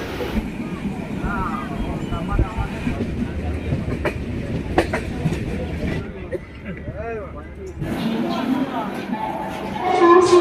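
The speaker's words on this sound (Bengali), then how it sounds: "ট্রেন হাওড়া স্টেশন থেকে ছাড়লো 4টে বেজে 50 মিনিটে।" A passenger train pulls out of Howrah station in Kolkata on a crowded run toward Kamakhya. Steady rumbling and rattling carry on under a busy crowd's chatter, ease off for a moment, then build again louder near the end.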